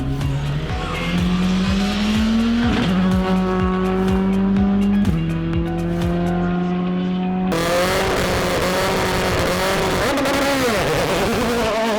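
A Skoda Fabia R5 rally car at speed on a closed road, engine revving hard through quick gear changes with tyre squeal, close and loud, then the pitch shifts as it passes.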